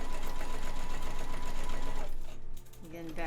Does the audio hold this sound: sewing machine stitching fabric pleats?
yes